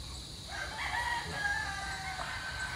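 Roosters crowing at a gamefecock farm, a couple of long crows rising over a faint background hum, moderately distant and alone without talk.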